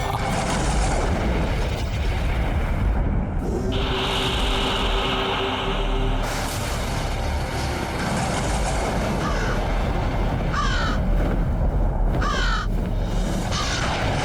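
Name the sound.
crow cawing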